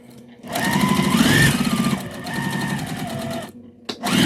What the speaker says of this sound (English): We're going to back stitch because I want to leave a hole for the lining to turn the bag.